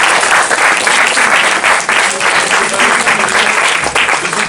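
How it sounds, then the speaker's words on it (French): Loud, dense applause from an audience cheering cosplay parade participants at the Strasbourg library, a continuous broadband wash of clapping that holds steady for several seconds. "d'être applaudi encore une fois"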